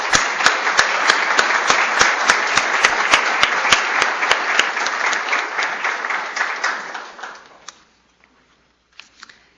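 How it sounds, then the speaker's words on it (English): Audience applause at a university department of medicine awards ceremony, a dense, loud burst of many hands clapping that holds steady for about seven seconds, then dies away into a few scattered claps. "Let's give them a big round of applause."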